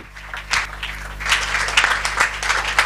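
A church congregation applauds during a Sunday worship service, a full, sustained round of clapping from many hands that swells and stays loud throughout.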